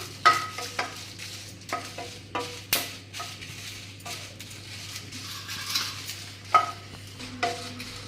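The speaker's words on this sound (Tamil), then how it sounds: "இந்த மிளகாவும் நல்லா வந்து வறுத்து எடுத்துக்கலாம்" Kashmiri red chillies dry roasting in a pan for idli podi, with repeated scraping and stirring strokes of a spoon against the metal at a steady rhythm, close and clear, over a low steady hum.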